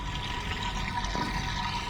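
Steady rushing water flows continuously through a newly cleared commercial building sewer pipe, a broad even wash of sound with no pauses, fairly close.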